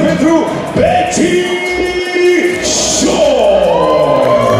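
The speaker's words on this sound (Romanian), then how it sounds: "Aplauze pentru Betty" A conference crowd cheers and whoops loudly as a guest is introduced, with shouts and yells rising over a busy room and faint clapping beneath the voices.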